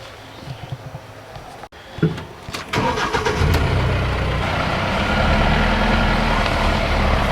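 Buggy engine cranking with a few sharp clicks, then catching and settling into a rough, steady idle that carries on loud and close until the end, outdoors near a gravelly stream.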